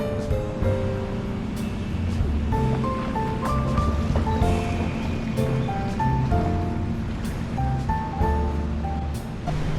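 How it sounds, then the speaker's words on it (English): Rain falls on a beach in Krabi, Thailand, with a constant hiss of rain and surf blended under soft music, steady and moderately quiet throughout. "it has started raining"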